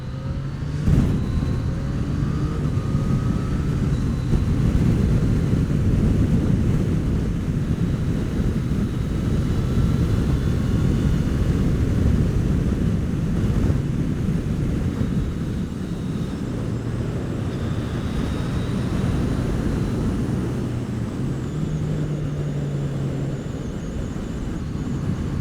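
A Yamaha MT-09 motorcycle rides slowly around a wet corner, its engine a steady low rumble held close throughout with slight swells in pitch and no voices.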